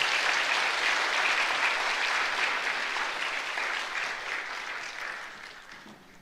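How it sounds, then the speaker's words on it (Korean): Church congregation applauding loudly during a Korean worship service, a dense sustained roar of clapping that slowly fades toward the end. "큰 박수로 축하하겠습니다."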